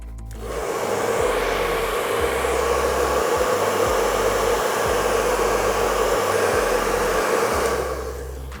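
A hair dryer blowing on a watercolor paint layer to dry it, a loud steady whoosh that starts, runs for several seconds close by and then cuts off, with no talk.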